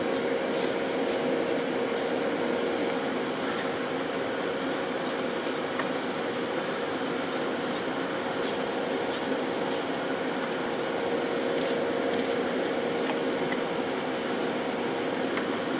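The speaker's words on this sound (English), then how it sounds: "I'm using Tamiya's TS51, which is racing blue. And we're just going to mist on a couple of light coats here." Tamiya TS51 racing blue spray paint misted from an aerosol can in light coats: a steady, continuous hiss that runs throughout with faint intermittent ticks, no voices.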